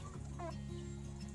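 Hens cluck inside a chicken coop, giving several short, close clucks over a steady low background hum.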